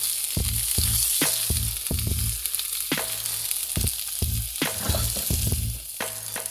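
Tuna frying crisp in a hot pan for tacos, with a steady loud sizzle and a run of repeated knocks and scrapes from utensils working the pan throughout.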